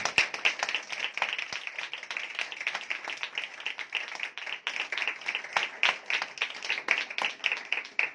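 A worshipping congregation at a Sunday meeting claps loudly and briskly, a dense, quick, slightly rhythmic patter of many hands close by, with no talk over it.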